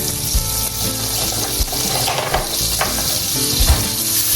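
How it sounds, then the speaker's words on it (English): Four tablespoons of butter melt in a skillet for a Cajun chicken pot pie filling, giving a loud, continuous close sizzle and crackle with occasional soft knocks. "we are going to add 4 tablespoons of butter to the skillet"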